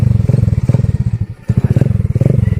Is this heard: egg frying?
no